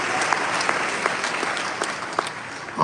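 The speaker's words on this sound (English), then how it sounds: "give yourself a round of applause to celebrate your auntie" A live audience applauds a relative-filled crowd at a celebration, dense continuous clapping that stays loud and even from start to finish, with no voices on top.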